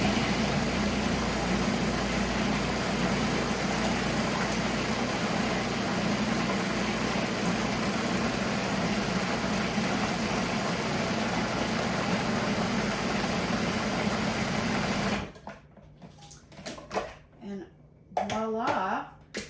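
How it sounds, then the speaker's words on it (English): A food processor blends warm nacho sauce, its motor whirring loudly and steadily for about fifteen seconds, then cuts off, leaving quieter clattering and scraping in the kitchen. "Again, I love the food processor, as we know. So I'll just blend it again."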